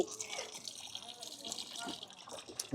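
Water splashes and trickles steadily from a small public drinking fountain on a street in Rome, with people talking over the flow.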